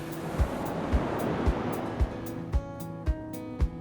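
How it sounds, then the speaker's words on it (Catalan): Ocean waves rolling and breaking on a surfing shore, a steady wash of surf with a series of regular thumping impacts about every half second, fairly close and with no voices. "Quan mirem al mar, sempre hi ha onades, més petites o més grans, com aquestes on podem fer surf."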